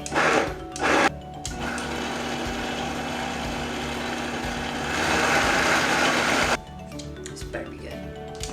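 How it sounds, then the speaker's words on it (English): An electric blender runs continuously for several seconds on homemade requeijão cheese with milk, a steady whirring roar that swells briefly before cutting off, with brief talking before and after. "next thing you need is a blender and a 1/2 cup of milk."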